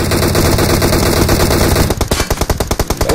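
Rapid automatic gunfire in the PUBG video game, a steady loud burst that turns into distinct, evenly spaced single shots toward the end, with no talking.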